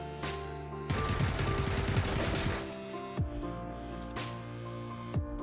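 Vector SMG in PUBG, fitted only with an extended magazine and fired while aiming down sights: a loud, dense burst of rapid automatic fire, then a few sharp single shots spaced about a second apart.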